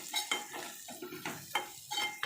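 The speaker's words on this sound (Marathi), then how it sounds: "आता मिश्रण छान एकजीव करून घेऊया आपण" A spoon stirs a Malvani masala, garam masala and salt mixture in a pan, giving a run of light scraping, clinking strokes in an uneven rhythm, close and fairly quiet, with faint sizzling between strokes and no voices.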